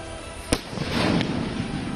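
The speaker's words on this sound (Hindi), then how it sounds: "रात में पटाखे चलाए जाते हैं ताकि कहीं भेड़िया छुपा हो तो वो सामने आ जाए।" Firecrackers set off at night during a wolf hunt in Uttar Pradesh: one sharp, loud crack followed by a crackling burst and a fainter pop, alone in the open air.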